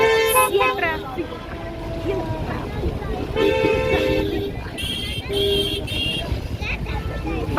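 Car horns honk and toot repeatedly through busy traffic on a road near the Saputara hill station, with engine rumble and people talking close by.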